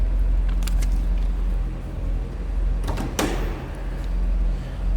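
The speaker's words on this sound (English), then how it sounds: "Let me go ahead and pop this hood a second." A 2008 Chevrolet Corvette hood is released and lifted: a few soft clicks, then a sharp latch pop and sliding clunk about two-thirds through, over a steady low engine rumble.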